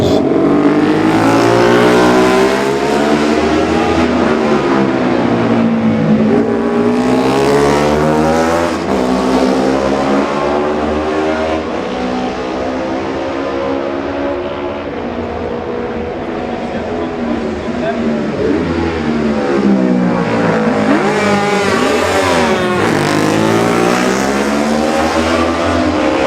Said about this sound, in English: The next two through are number 45 Leon Murphy and number 28 Alex Whitwell on their Hondas